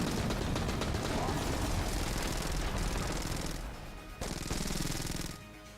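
Rapid SMG fire from the video game Enter the Gungeon, a dense continuous burst of shots that runs loud for several seconds, briefly drops out, then resumes before tapering off.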